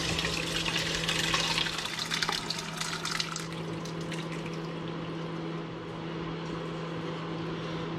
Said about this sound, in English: I'm going to pour them very gently into the sieve.